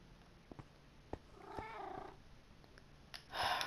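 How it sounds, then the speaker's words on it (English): A pet cat meowing nearby in a quiet room, a drawn-out wavering meow in the middle and a louder cry at the end, with a few faint clicks between. "this cat just won't shut up"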